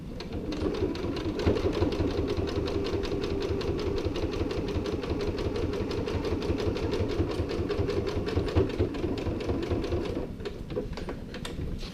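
A sewing machine stitches through foam padding on a tote bag interior, running in a fast, steady mechanical rattle for about ten seconds before slowing and stopping near the end.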